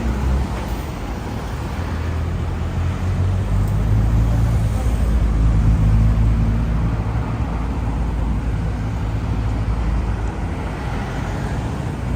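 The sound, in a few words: tourist buses passing in Yokohama traffic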